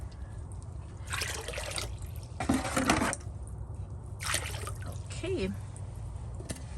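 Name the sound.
water pouring into a bucket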